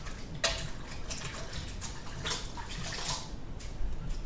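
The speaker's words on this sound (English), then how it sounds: "to make sure I give my hands a good wash" Hands being washed under running tap water in a kitchen while cooking, with a faint, steady flow and soft splashes throughout and no talking.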